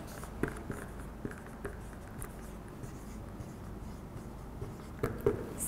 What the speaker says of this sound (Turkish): Yedinciyi de buraya yazıyorum.